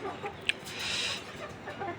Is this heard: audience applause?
no